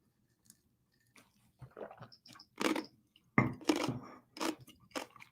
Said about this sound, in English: I got to try not to chew ice.